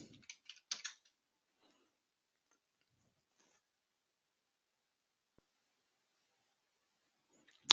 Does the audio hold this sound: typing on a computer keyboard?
yes